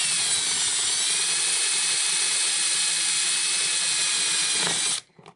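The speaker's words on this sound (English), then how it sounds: "I've been using my trusty drill here, and one by one I'm putting drainage holes in" A power drill whines steadily at high speed for about five seconds, boring drainage holes into a plastic seed nursery box, then stops abruptly.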